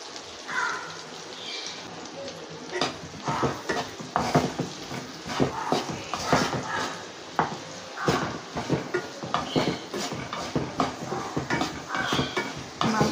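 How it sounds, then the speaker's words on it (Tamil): Onions sautéed in a pan with a little salt for a fried coconut chicken dish, a utensil scraping and clinking against the metal pan in a steady rhythm of stirring taps, close and moderately quiet. "இதை நம்ம இப்போ இதில் போட்டு வதக்கிடலாம்"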